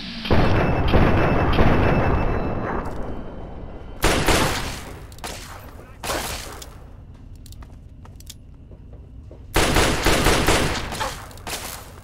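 Rapid bursts of video-game gunfire from Fallout 3 crack loud and close, coming in several separated volleys with quieter gaps between them.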